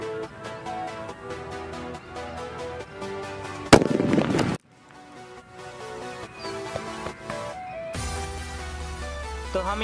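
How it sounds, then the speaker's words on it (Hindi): Sutli bomb firecracker set off outdoors during Diwali, one loud sharp blast ringing briefly before cutting out, with music playing steadily throughout and a deep hum coming in near the end. "इसे बोलते हैं सुतली बम, तो जला के देखते हैं।"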